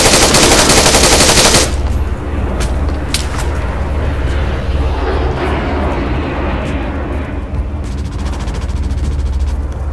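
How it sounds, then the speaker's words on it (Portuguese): Rapid automatic helicopter gunfire in the video game Arma 3 rattles loudly and continuously over a rushing roar, with scattered sharp cracks. "isso não é tiro de coisa não, é tiro de helicóptero"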